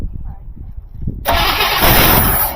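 A 1974 Buick Riviera 455 V8 cranking and catching, the starter churning briefly before the engine bursts into a loud, steady rumbling run close by.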